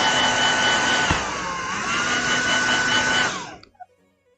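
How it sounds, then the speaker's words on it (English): A handheld hair dryer used during a painting session blows a loud, steady broadband whir with a faint motor whine, holding constant for about three and a half seconds before cutting off abruptly into near silence. "I'm gonna get my hair dryer out real quick, so I apologize in advance if this is noisy."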